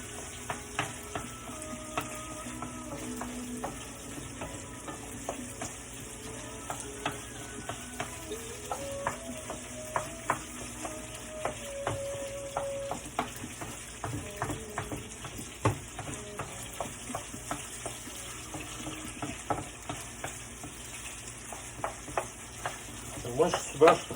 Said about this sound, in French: le gras va être bon aussi pour faire cuire les oignons